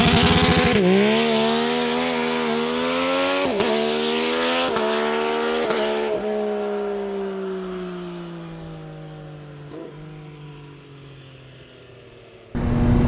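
An MV Agusta Dragster 800 RR motorcycle launches hard under launch control, its engine note climbing through rapid upshifts with short breaks between gears, loud and close at first, then fading as it pulls away, ending with a sudden loud burst.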